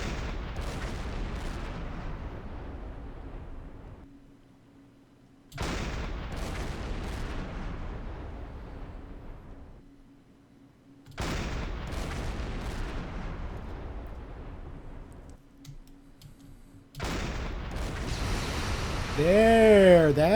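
Big explosions tear through a damaged freighter in the naval game Silent Hunter 5, arriving as four heavy, roaring blasts spaced several seconds apart, each loud at onset and slowly fading.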